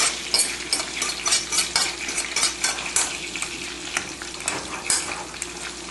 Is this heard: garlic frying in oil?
yes